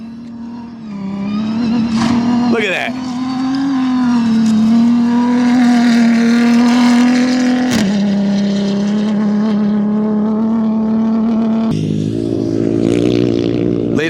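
Rally cars race past in the desert during the 2023 Dakar Rally. A loud, sustained engine roar holds a steady pitch with brief sharp whooshes as vehicles pass, and a voice speaks briefly.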